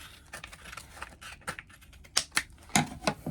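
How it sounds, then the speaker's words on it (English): Scissors snipping through the stiff plastic edges of a pond bottom drain, a run of irregular close clicks and crunchy cuts that grow sharper and louder toward the end, with no talking. "scissors do a good job of cutting this"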